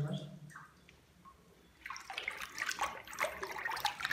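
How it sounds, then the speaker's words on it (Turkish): A hand whisks handmade paper pulp through a basin of water, churning and splashing close by, rising from faint to busy partway through. A voice talks quietly near the start before the sloshing takes over. "Şimdi elimle iyice çırpıp suyun üstüne gelmesini sağlıyoruz."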